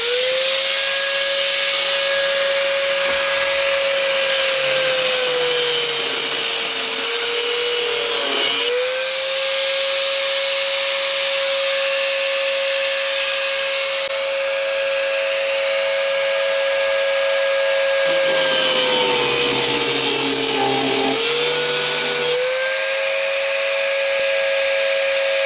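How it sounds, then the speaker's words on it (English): An angle grinder fitted with a very fine cut-off blade cuts through copper pipe for a garden tap, giving a loud, steady high whine with harsh grinding hiss that dips in pitch briefly twice under load. "grinder with a cut-off blade in it. It's got a very fine cut-off blade"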